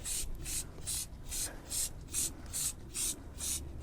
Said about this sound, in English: I'm using Autoglim Custom Wheel Cleaner, and I'm going to lightly spray it